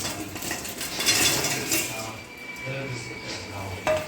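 Manchurian tossed in gravy in a pan, with a continuous close sizzle and the clatter and scrape of a utensil against metal, while a person talks.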